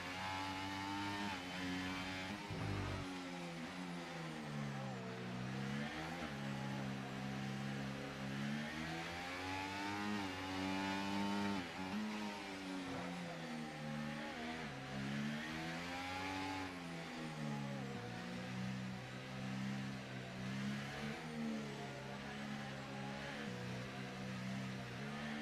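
A race car engine in a racing video game revs up and down repeatedly through rising and falling whines on a formation lap at the Japanese Grand Prix, loud and continuous with no talk.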